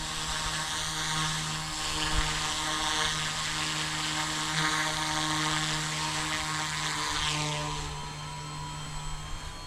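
An Eachine E186 Bell 206 toy RC helicopter idling, a steady close electric whine and buzzing rotor hum held throughout, dropping slightly in pitch near the end, with no talking.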